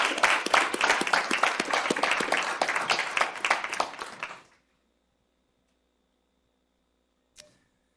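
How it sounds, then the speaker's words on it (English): A board meeting audience applauds an honoree, sharp individual claps close by for about four seconds before stopping abruptly, followed by silence and one faint click. "Let's give him a round of applause."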